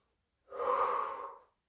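A single audible breath during a Pilates workout, rising smoothly and fading over about a second, close and fairly soft, with no talking over it.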